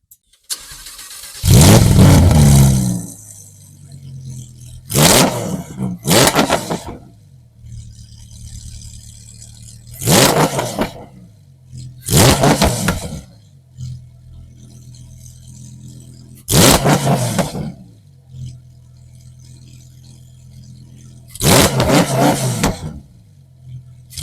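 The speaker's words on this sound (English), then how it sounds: "I'm gonna start the car up so you guys can hear the engine" A 2023 Lamborghini Huracan Tecnica engine fires up with a loud roar, then settles into an idle broken by six sharp, evenly spaced revs, each surging and dropping back.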